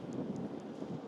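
Cold wind blowing outdoors in Stockholm, a steady, broad rush of air buffeting close to the microphone and filling the whole moment without pause.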